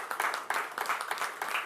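Applause from the audience at a Glendora Unified School District board meeting: a modest crowd clapping steadily, fairly quiet and slightly distant, with a continuous patter of hand claps.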